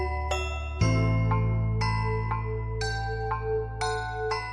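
A bright chiming bell melody rings out clearly in a sequence of tones over a sustained low drone, like an electronic notification jingle.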